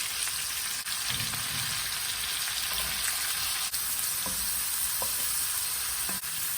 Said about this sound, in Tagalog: So, yung mantika ng bacon, siya ang magpa-fry. Dito, magpa-fry siya dyan sa cabbage.